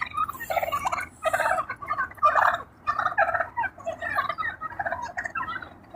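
Wild turkeys gobble at sunrise, a group calling in repeated rapid, rattling bursts that overlap, loud and close, with no talking.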